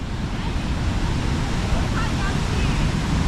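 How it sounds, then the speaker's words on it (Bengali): Usri waterfall pours with great force, a dense, loud, continuous rush of falling water with wind buffeting the microphone and no break. "অস্বাভাবিক জোরে জল পড়ছে"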